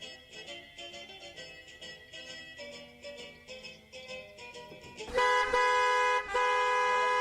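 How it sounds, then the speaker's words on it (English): Car horns honk repeatedly in busy Friday evening road traffic, a run of short toots followed by a long, loud sustained blast, with engine rumble beneath. "What a busy traffic on this Friday evening."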